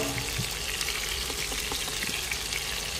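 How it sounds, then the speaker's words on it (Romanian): Continuous crackling sizzle of chicken frying in a pan over medium heat, with scattered pops and spits, steady and close. "Și prăjim bine pe amândouă părțile."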